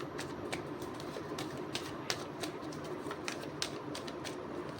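Tarot cards being shuffled by hand, a rapid run of soft papery flicks and light taps close by, fairly quiet and steady throughout with no talk.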